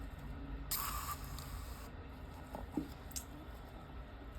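A quick hiss of a spray bottle spraying alcohol inside a globe for an epoxy resin snow globe, one short burst followed by a couple of faint spritzes and small clicks in a quiet room.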